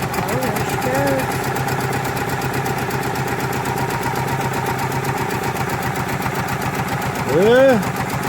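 A 1990 Eagle Talon TSI engine idles roughly just after starting, a steady mid-pitched drone with an uneven pulse running throughout, and a brief louder rev or whine surge near the end.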